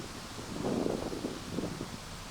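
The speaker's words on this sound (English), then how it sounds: "Wind's picking up." Wind gusts across an outdoor disc golf course, a soft, broad rush that swells for a moment and buffets the microphone, then eases back to a low steady hiss.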